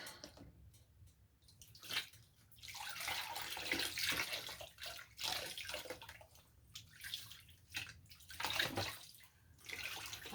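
An arm sloshing and splashing in a tub of water used as a dye bath, with irregular close swishes, drips and surges of water that rise and fall throughout.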